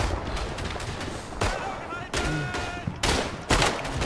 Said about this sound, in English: Oh my god, who shot me?